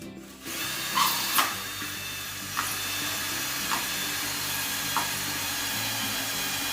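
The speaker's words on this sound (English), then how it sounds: "I'm going to drill right through the middle." A power drill whines steadily after a brief start, with a few sharp cracking bursts as it bites through the middle of stacked brittle plastic cups.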